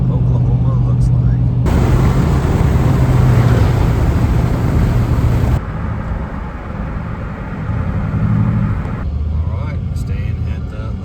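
Steady interior road noise from a car cruising on the highway in Oklahoma, a continuous low rumble and hiss with a louder stretch partway through, then a quieter, even drone.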